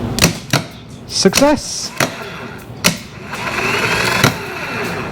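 A Porsche 944 Turbo starter motor is tested off the car, giving a few short mechanical clicks and bursts before a steady whirring spin that carries on to the end. Someone speaks briefly over it.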